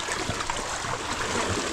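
Floodwater rushing during a storm in Jaffna, a steady broadband wash of flowing water with faint gurgles, close and continuous throughout.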